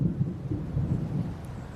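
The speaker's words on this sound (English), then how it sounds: "Yep, you hear the thunder." Thunder from a storm during rain, heard outdoors while working on a car: a low, continuous rolling rumble that swells and fades slightly, fairly distant and with no voices.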